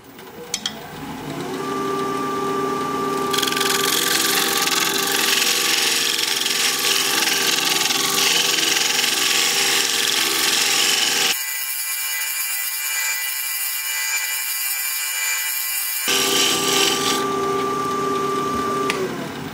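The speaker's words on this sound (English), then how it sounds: "I'm going to change to this hollowing tool so that I can undercut the sides a little bit more." A hollowing tool undercuts a wooden barrel spinning on a lathe, a loud, steady scraping hiss over the lathe's hum, with a stretch where the cutting pauses before resuming.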